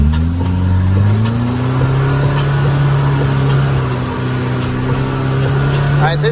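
LFR Pro R buggy engine revving in low gear at around 4,000 to 4,500 RPM, a steady loud drone that climbs in pitch at the start and then holds level throughout.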